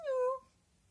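A pet cat gives a single short, clear meow indoors, fairly faint and falling in pitch, followed by quiet.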